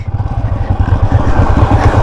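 A motorcycle rolling down a steep mountain descent at Mt. Lawad, its engine giving a steady low, pulsing rumble close by with some clatter, the rear brake carrying the load because the front brake is not working.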